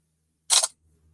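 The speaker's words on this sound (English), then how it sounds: "I'm going to take a selfie" A phone camera shutter clicks once while taking a selfie, a single short crisp snap close by in an otherwise quiet space.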